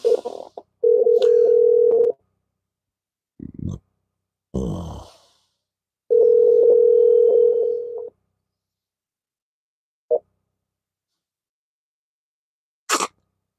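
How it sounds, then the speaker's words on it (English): Telephone ringing tone on an operator call line, steady tone bursts repeating in a slow ring cadence with short clicks between, fairly loud, no talking. "we got a ring this time"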